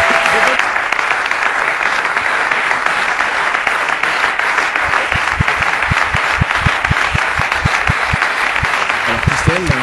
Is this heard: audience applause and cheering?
yes